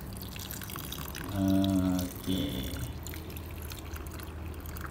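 Water poured from a container onto a potted fruit plant, splashing and trickling for about a second, then a brief follow-up dribble, with a voice speaking quietly once.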